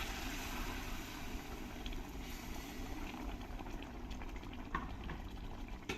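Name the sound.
masala simmering in a kadhai with hot water added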